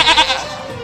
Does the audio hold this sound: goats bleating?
yes